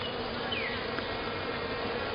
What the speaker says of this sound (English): We've got a large amount of bees.